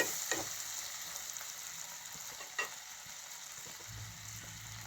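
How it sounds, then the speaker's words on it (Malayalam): Chopped tomatoes stirred into a frying pan of oil for dal fry, a soft steady sizzle with a few scraping stir strokes, close and moderately quiet, no talking. "ഇനി തക്കാളിക്ക നുറുക്കി വെച്ചിരിക്കുന്നതും കൂടി ഇട്ട് ഇളക്കി ഒന്ന് അടച്ച് വെക്കാം"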